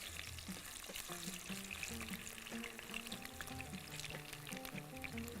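Potatoes fry in a pan with a steady close sizzle and light crackling, while soft background music plays underneath.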